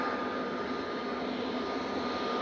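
An EasyJet jet airliner's engines roar in a steady, loud broadband rush at Manchester Airport, with no break across the whole stretch.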